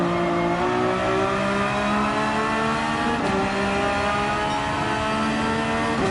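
A race car in Gran Turismo 7 on Watkins Glen revs and accelerates hard, its engine note climbing steadily, dipping briefly at a gear shift, then climbing again in a continuous loud drone.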